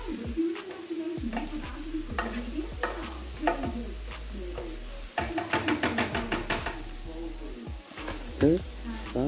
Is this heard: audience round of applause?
no